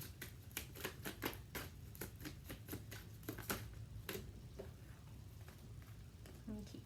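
Tarot cards being shuffled by hand, a quick series of close, crisp riffling and flicking bursts in an irregular rhythm over a low room hum, with no talking.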